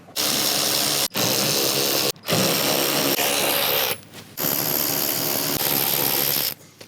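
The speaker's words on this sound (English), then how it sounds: "we gotta pull 6 of these 8 mil fender liner bolts out" Power tool spinning out 8 mm fender liner bolts on a RAM 1500 pickup, several loud, close whirring runs of a second or more, separated by sharp stops and brief pauses, with no talk.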